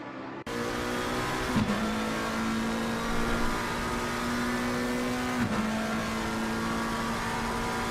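A race car engine at Laguna Seca, with Bentley, McLaren and Ferrari machines running in close order, holds a loud, continuous high drone, broken by two brief shifts in pitch that could be gear changes.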